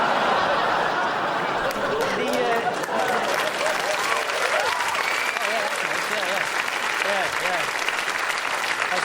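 A studio audience at a comedy show claps loudly and continuously, dense applause mixed with laughter and scattered voices throughout.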